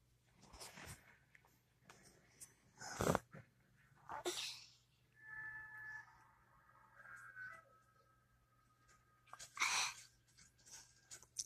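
A sleepy animal waking in the morning lets out a few sharp sneezes and snorts, close and fairly quiet, separated by soft breathing and a faint whistly wheeze in an otherwise still room.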